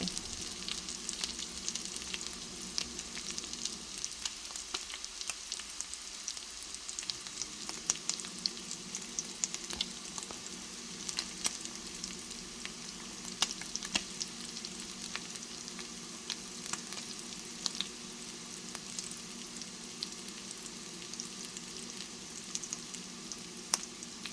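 Beef steak frying in a pan on a stovetop, heard as a steady, close crackling sizzle with scattered pops throughout, with no talking.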